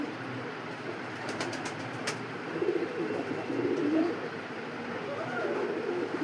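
Coca fancy pigeons coo in soft, rolling bursts on a pigeon farm, moderately close, with a few sharp clicks early on and a quiet background.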